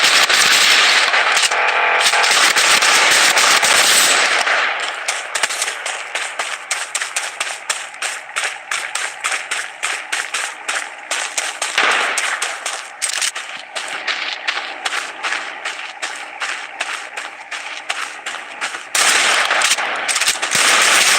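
Rapid bursts of automatic gunfire in the Blood Strike battle royale game crackle loud and close, with a long sustained stream of shots, then steady rhythmic fire and a brief pause before another dense burst.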